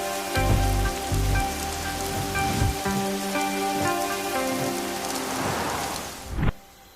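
Steady rain patters on a surface throughout, with a low rumble early on and a sharp thud near the end.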